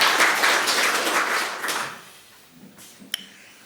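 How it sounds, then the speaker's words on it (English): An audience claps to welcome a speaker before a lecture, dense applause that fills the first couple of seconds, then thins and fades out, ending with a few scattered claps and a sharp tap near the close. "So please just welcome him with your applause"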